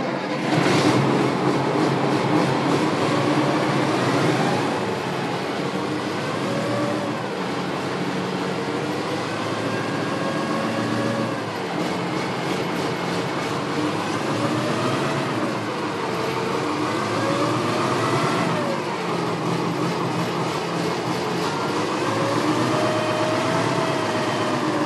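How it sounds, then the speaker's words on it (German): A vintage Deutz D160-06 articulated tractor from 1969 driving, its engine a steady, moderately loud chugging drone with gentle rises and falls in pitch, no voices. "Franziskus, hat heute die Ehre, den D160-06 aus seiner Garage zu fahren."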